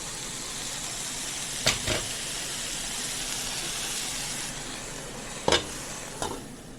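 Dandelion greens cook down in a covered pot over medium-high heat, making a soft continuous hiss and sizzle, broken by a few sharp scraping stirs and clatters, close by with no talking.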